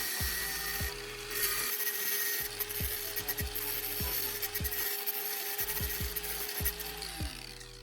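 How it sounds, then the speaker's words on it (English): An angle grinder shapes the edges of a small metal disc made from an old screwdriver bit, a steady whine broken by rhythmic short grinding passes roughly every half second, close and alone. "I again use the angle grinder to carefully shape the edges of the disc"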